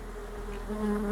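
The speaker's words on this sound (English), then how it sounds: "Let the honeybees figure it out." Honeybees buzz steadily around a hive holding a new queen, a close, continuous droning hum that swells slightly toward the end.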